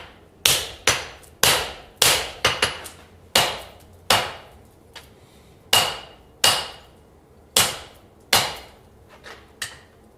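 A hammer strikes hot metal on an anvil during forging, a steady series of loud, sharp ringing blows about once a second, close and clear with no talking.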